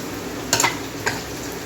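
Chopped green chili and ginger frying in a pan for a Bengali cholar dal tadka: a steady soft sizzle with two brief bright bursts of spattering or stirring, close and alone with no talk.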